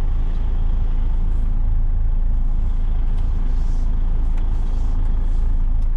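A Class 1 (Cat C+E) articulated truck reverses with its trailer, its diesel engine a loud, steady low rumble heard from the cab without a break.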